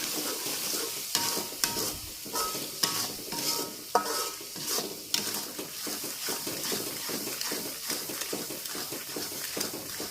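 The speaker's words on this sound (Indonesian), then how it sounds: "Diaduk kembali supaya tercampur merata." Seasonings with broth powder and white sugar are stirred in a hot pan, giving a soft continuous sizzle broken by frequent scraping, clacking strokes of the spatula, close and steady with no talk.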